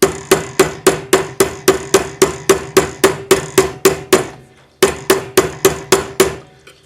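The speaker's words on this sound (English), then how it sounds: "Moving the bracelet as we hammer because we don't want any ripples on the sides" A metal bangle hammered on a sinusoidal stake rings out in a steady run of sharp, evenly spaced blows, about three per second, with a brief pause before the strikes resume, loud and close.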